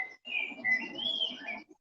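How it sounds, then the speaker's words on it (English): A blackbird's clear, fluting whistle rises and falls in a continuous melodic phrase, sung alone with brief pauses and no talking. "That one there, that's the blackbird"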